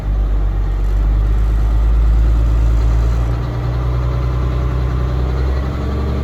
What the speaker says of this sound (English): You could rev up the engine a little bit